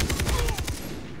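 Rapid gunfire in the shooter game Far Cry 3, a quick burst of evenly spaced shots rattling for under a second before fading to a low game background.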